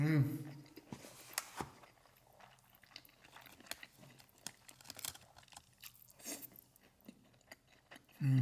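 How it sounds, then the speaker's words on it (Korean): Seasoned pork belly eaten in a close-miked mukbang, with soft wet chewing and occasional crunchy bites in an irregular rhythm, quiet throughout, plus brief bursts of mouth noise at the start and end. "이번엔 양념 삼겹살 먹어보겠습니다"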